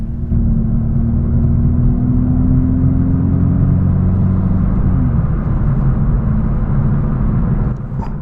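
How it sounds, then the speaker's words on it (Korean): A steady, droning virtual engine hum in a Hyundai Veloster's sports mode, with a rising pitch that drops back around the middle, continuous and fairly loud, like an amplified engine tone inside the car. "세 가지의 가상 엔진 사운드가 RPM에 맞게 마치 가변배기 소리처럼 나옵니다."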